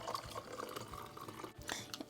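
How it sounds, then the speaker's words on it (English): Warm, steaming milk and cornstarch mixture poured into eggs for banana pudding, heard as soft liquid splashes and drips with some kitchen clatter at close range. "when your milk and cornstarch mixture starts getting warm, so where it steams, you're going to pour some of it into your"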